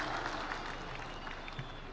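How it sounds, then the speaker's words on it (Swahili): A stadium crowd gathered for a Mashujaa Day national celebration in Kitui, Kenya, claps in sustained, dense applause, a broad even wash of many hands heard from within the crowd. "Wapi makofi ya mama Prime Minister wa kutoka Mozambique jameni"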